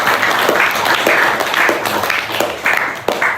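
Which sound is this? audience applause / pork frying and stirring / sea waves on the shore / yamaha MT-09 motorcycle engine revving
audience applause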